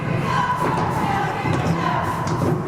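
A crowd at a junior college men's basketball game cheers and roars in a gym, with scattered thuds from the court mixed into a steady wash of voices.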